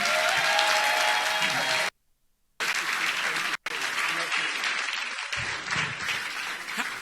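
Audience applause at a graduation ceremony, sustained clapping from a large crowd broken by brief dropouts, continuing steadily throughout.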